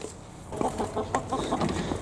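Several chickens cluck busily up close over food, quick overlapping bursts of excited clucks over a soft rustling background.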